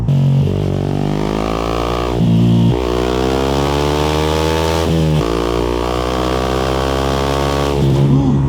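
The engine of a 2018 Yamaha YZF 125 motorcycle, running steadily and loudly close by, with a few brief rev changes and throttle blips breaking the sustained tone.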